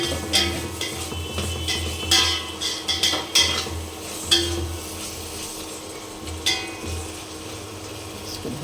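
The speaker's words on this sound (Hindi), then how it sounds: "इसको भूनते हैं अच्छे से।" Spiced masala sautéed in a pan with whole coriander, a spoon scraping and clinking against the metal in irregular bursts over a low, steady sizzle, close and fairly quiet, no talking.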